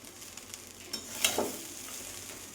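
Khichuri being stirred slowly in a frying pan, a faint low sizzle with a few soft scrapes and one brief sharper clink near the middle.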